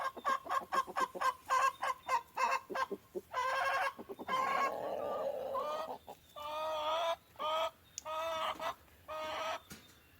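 Chickens on a homestead cluck loudly and repeatedly close by, with rapid rhythmic clucks giving way to longer drawn-out squawks and calls, no talking.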